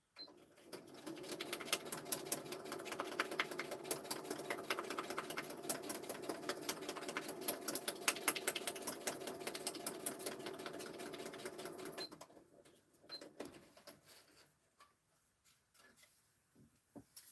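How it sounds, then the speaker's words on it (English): Sewing machine stitching a fabric flower embellishment, running steadily and fairly loud for about twelve seconds with a fast rhythmic whir, then stopping to near quiet with a few faint handling sounds. "let's stitch this one and see what it looks like"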